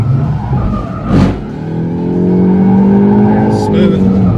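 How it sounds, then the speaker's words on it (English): A 2024 Ford Mustang with the four-cylinder EcoBoost and 10-speed automatic accelerates on a track. Its engine drones and rises through a shift, loud and close, with a brief whoosh and a chirp near the end. "this is our 4-cylinder EcoBoost 10-speed automatic version"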